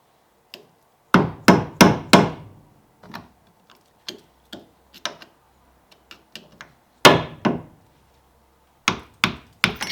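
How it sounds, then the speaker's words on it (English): Hammer blows knocking a hub dust cover off a Mk6 Ford Fiesta ST150 during a strip-down, sharp metallic strikes coming in quick bursts of three or four, then scattered single taps with pauses, close and loud with no talking. "Might need a hammer."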